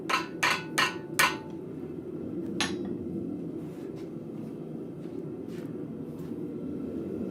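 A blacksmith hammers a steel shelf bracket straight on an anvil. Four sharp metallic ringing strikes come close together, then one more after a pause, over a low forge rumble, followed by fainter taps.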